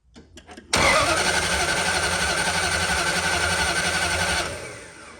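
A Dodge Dart engine cranks without catching: after a few faint knocks, the starter whirs loudly and steadily for about four seconds, then trails off.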